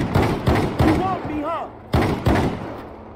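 Zombie-mod gunfire in GTA V, several loud sharp shots in an uneven rhythm over about three seconds with a brief lull in the middle, some ringing tonal game sounds mixed in.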